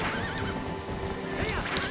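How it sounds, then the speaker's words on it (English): Horse galloping and whinnying in Zelda: Twilight Princess, a rapid clip-clop of hooves under a wavering neigh and game music, close and steady throughout. "Well, me on horseback, him on the back of his boar."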